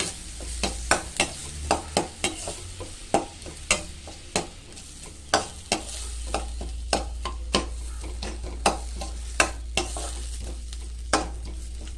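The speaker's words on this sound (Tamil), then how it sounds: "நல்லா வதக்கணுங்க." Tomatoes sautéing in a pan for fig poriyal, with steady frying and a spatula scraping and tapping again and again in an irregular rhythm, close and fairly loud, with no talk.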